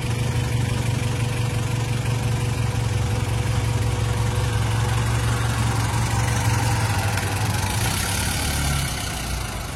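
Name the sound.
2021 Honda Civic Turbo engine running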